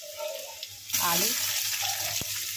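Potatoes and sliced onion fry in a pan for a mixed-vegetable dish, a steady hiss that swells louder partway through and keeps going, with a brief clack near the end.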